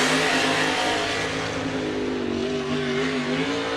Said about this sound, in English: that boat just wanted more power coming out of that right hand